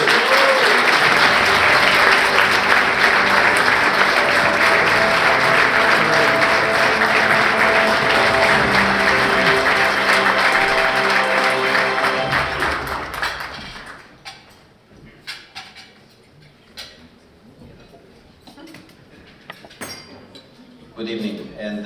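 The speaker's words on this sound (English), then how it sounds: "So let's give General Daniel Petrescu a big round of applause and welcome him on stage." Loud, dense applause from an audience at an award ceremony fills most of the stretch, then tapers off into scattered claps and a quiet room with faint background noise.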